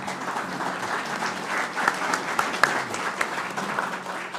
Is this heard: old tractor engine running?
no